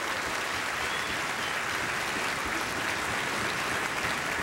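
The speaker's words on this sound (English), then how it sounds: "How about a nice round of applause for the Army team?" An audience at the 2006 NHRA drag racing awards ceremony claps loudly and continuously, a dense, even roar of applause throughout.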